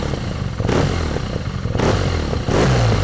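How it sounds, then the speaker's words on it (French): A BMW R nineT motorcycle with a flat-twin engine idles nearby, then the throttle is blipped three times in short bursts, each rev swelling sharply over the rough, clattering idle. "Regardez, on va accélérer un petit peu sur ici la poignée."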